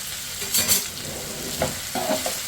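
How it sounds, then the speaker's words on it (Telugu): Onions and slit green chillies fry in hot oil in a pan and are stirred with a spoon, giving a soft steady sizzle with a few brief scraping strokes close by. "బాగా కలుపుకోవాలి మంచిగా ఆయిల్లో ఇలా వేగుతూ ఉంటే అప్పుడే ఆ ఫ్లేవర్ వస్తుంది"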